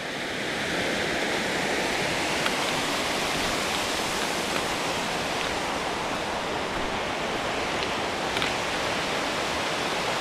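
Waterfall on Palisade Creek in Palisade Canyon, a steady, dense rushing roar of falling water that holds at an even level throughout with no voices.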